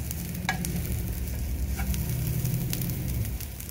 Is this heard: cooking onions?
yes